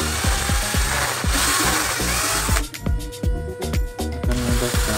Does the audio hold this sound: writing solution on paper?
no